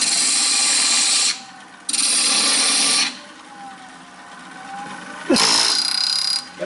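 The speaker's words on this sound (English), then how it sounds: "So I'm just going to use a parting tool here." A parting tool cuts into a spinning wooden Christmas tree blank on a lathe, giving loud, close hissing bursts of cutting that stop and restart several times over the lathe's hum.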